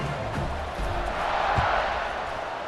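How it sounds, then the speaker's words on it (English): Steady crowd roar from a packed college football stadium in a video game, a broad wash of cheering that swells slightly midway, with no distinct voices standing out. "You think this crowd's going to get loud when their defense comes on the field?"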